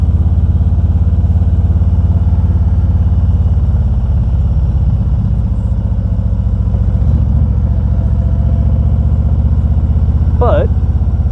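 A motorcycle engine hums steadily while riding on the road on New Year's, a constant close drone with a voice talking over it.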